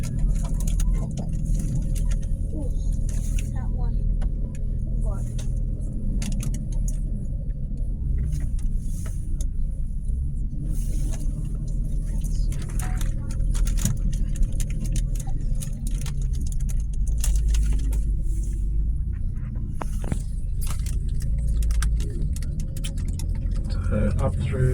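Double-decker bus climbing uphill around the corners of Mount Panorama racetrack, its engine droning steadily and loudly from inside the cabin with rattles, while someone talks over it.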